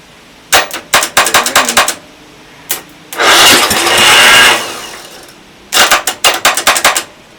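An engine cranks on its starter in short rhythmic chugging bursts, catches into a loud roar for about two seconds, dies, then cranks again in another rapid series of loud close turns.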